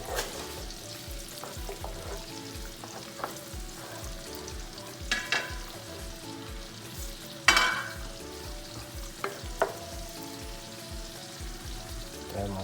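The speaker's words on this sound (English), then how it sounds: "I'm gonna put the chopped up onion. That's about half a medium sized onion. And let it fry" Half a medium chopped onion fries in oil for Nigerian egusi soup, giving a steady close sizzle with faint crackles and a few louder pops and utensil knocks, without speech.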